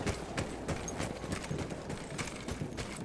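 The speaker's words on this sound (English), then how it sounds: "No, that's a horse!" Horse hooves clip-clop in the Battlefield 1 World War I campaign at Cape Helles, a steady run of close, rhythmic hoof strikes over a continuous background rumble.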